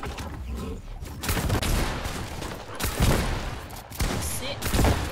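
Rapid gunfire in a Fortnite match, dense volleys of shots and thuds running continuously and loud through the whole stretch.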